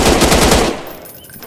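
Rapid automatic gunfire in the video game The Lonesome Shooter, a loud close burst of about a dozen shots in quick succession that cuts off and fades into a short tail.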